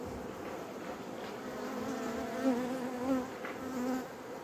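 Honey bees buzzing around a thermo hive during a beekeeping inspection, a steady close swarm drone with individual bees droning past louder now and then, no talk.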